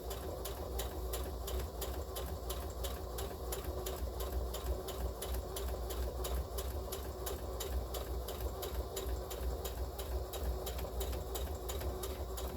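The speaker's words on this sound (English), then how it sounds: "sewing the lining" A sewing machine stitches the lining of a child's tote bag, a steady fast mechanical chatter with an even rhythmic pulse under a low motor drone, running without a break.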